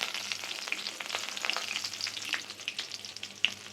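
Dried red chillies and curry leaves frying in hot oil for a bitter gourd and okra kara kuzhambu, a steady close crackling sizzle with sharp pops scattered throughout, no voices.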